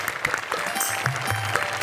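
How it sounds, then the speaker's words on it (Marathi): Studio audience applause on a Marathi comedy show, a loud, dense patter of clapping close by that holds steady throughout, with faint shouts mixed in. "टाळ्या टाळ्या"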